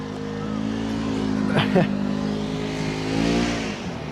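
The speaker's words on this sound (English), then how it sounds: "it's a four-wheeler passing by, dude" Four-wheeler passing by outside with a rising then fading engine note, heard at moderate distance beneath someone talking.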